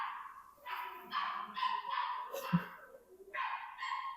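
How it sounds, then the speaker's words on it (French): A small dog yaps repeatedly in short, fairly faint bursts at a distance, the barks spaced irregularly with a brief sharp knock in between. "il y a un petit chien en fait qui est en train d'aboyer"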